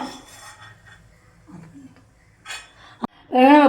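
A plate set down in a kitchen while cooking tomato thokku, a sharp single clink of crockery amid faint rustling and brief handling noises, followed by a short voice.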